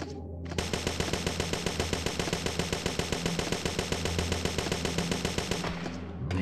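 Rapid automatic gunfire in the video game Parasite Eve 2, a loud, steady burst of evenly spaced shots lasting several seconds before stopping abruptly.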